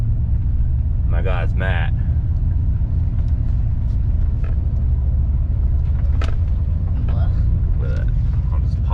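Turbocharged Yukon SUV pulling into a petrified-wood gas station in Colorado, its engine a steady low rumble throughout while someone speaks briefly over it.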